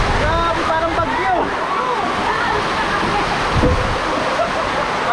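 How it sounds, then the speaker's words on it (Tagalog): Heavy rain pours down in a dense, steady roar, with voices talking over the downpour. "Biglang bumuhos yung ulan."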